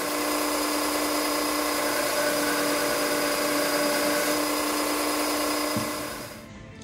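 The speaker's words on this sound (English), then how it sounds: "Hit the grinder with that thing." Angle grinder running steadily on metal in a home workshop while building a planishing hammer from tool-store parts, a loud continuous whine with a sustained tone that cuts off near the end as the tool spins down.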